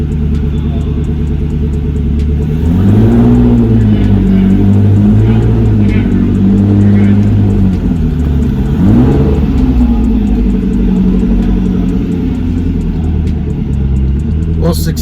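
A 1997 Lotus Esprit V8 twin turbo engine revs while driving, a loud, rumbling drone rising and falling through throttle changes, close-up and continuous, with people talking over it inside the car.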